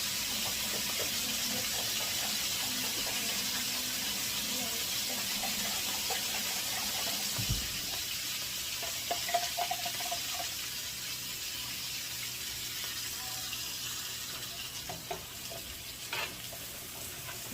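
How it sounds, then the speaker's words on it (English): Water added to a hot skillet of flour-dusted carrots and vegetables, a steady frying sizzle and hiss with occasional scraping and stirring clinks, close and alone without talk. "A little bit of water."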